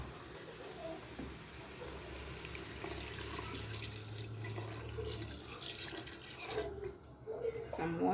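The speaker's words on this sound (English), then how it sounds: "add water there." Tap water runs into a cooking pot while goat tripe (matumbo) is prepared in a home kitchen, a steady pouring hiss that briefly stops and resumes near the end.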